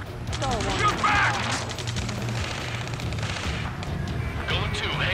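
Gunfire and artillery from the Ace Combat 7 video game make a dense, continuous battle barrage of rapid shots and rumbling booms that stays loud for the whole stretch.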